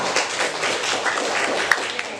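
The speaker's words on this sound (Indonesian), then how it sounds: "tepuk tangan untuk kelompok" A room of Indonesian teachers at a professional development workshop gives a group steady applause: a dense, continuous wash of many hands clapping at once, fairly loud and unbroken for the whole stretch.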